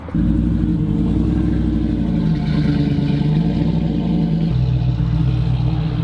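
A Dodge Ram with a Comp-cammed Hemi engine and shorty headers idling close by, a loud, continuous lumpy rumble with a slight dip in pitch near the end.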